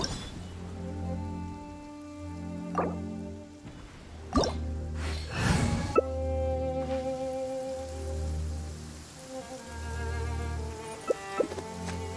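Heavy rain falling in the video game Genshin Impact, a soft steady patter running under sustained musical tones, with a few brighter splashy bursts partway through.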